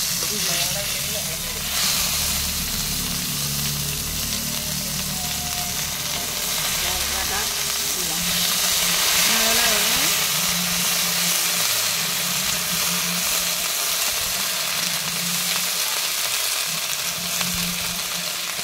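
Whole garam masala and onion paste fry in oil for a snakehead fish curry, a loud, steady sizzle and hiss with stirring scrapes, while voices murmur faintly underneath.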